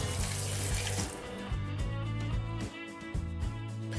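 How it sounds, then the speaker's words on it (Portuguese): Tap water runs steadily into a sink, rinsing vinegar off raw chicken wings, with close, continuous splashing and gurgling. "Passar mais uma aguinha para tirar o excesso aqui de vinagre."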